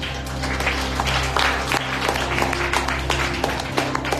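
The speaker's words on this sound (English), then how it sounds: "Clap your hands for the Lord" Congregation clapping hands at a Sunday evening retreat in Margao, Goa, a sustained crowd applause over a droning background tone, with little speech.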